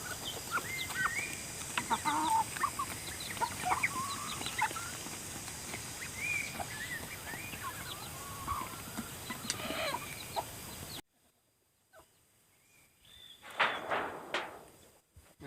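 Chickens around a rural home where ducks and chickens are kept cluck and call continuously at moderate distance, then after a sudden quiet break a louder burst of close clucking and rustling follows.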